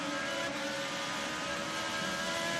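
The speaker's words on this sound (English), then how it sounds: "You can listen to the throttle." An IndyCar engine on a street circuit drones steadily under throttle, a continuous buzzing whine heard from the car, fairly distant and even in level with no talking over it.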